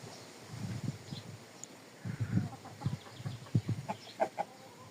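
Chickens clucking and murmuring close by in irregular bursts, with soft rustling between calls.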